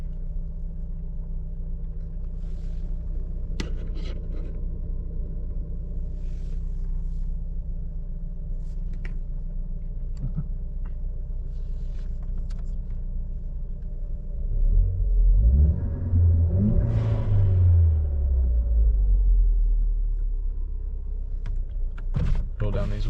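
A Ford Focus ST with an aftermarket exhaust and blow-off valve idles with a deep steady rumble, then rises in one clear rev before settling back, and a few light clicks follow near the end.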